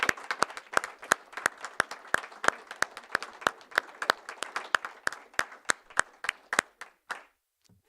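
Sparse applause at a county board meeting from only a couple of people, distinct individual claps in a steady rhythm that slows and fades out near the end.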